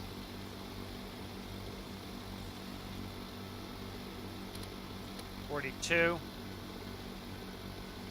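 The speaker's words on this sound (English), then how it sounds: "I can hear the engine speeding up." A propeller aircraft engine in the Stormworks flight game drones steadily, then briefly rises in pitch as it speeds up. A voice talks quietly over the hum.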